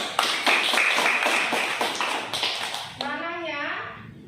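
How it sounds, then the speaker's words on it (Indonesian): A third-grade classroom of children claps together in a quick, dense burst of hand claps lasting about three seconds, then breaks off as a voice rises in a wavering call. "Pertanyaan yang bagus, tepuk tangan dulu saya"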